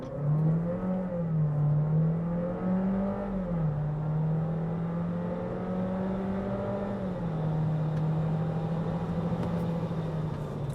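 Jeep Renegade Série S T270 4x4 2022 accelerating hard from a standstill in sport mode with the air conditioning off, its engine note climbing steadily through gear changes, loud and close from inside the cabin.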